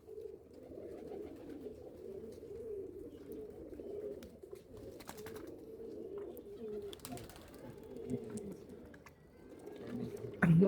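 Giribaz pigeons from Rajshahi cooing steadily in a soft, low, continuous murmur, with a few brief clicks and knocks in the background.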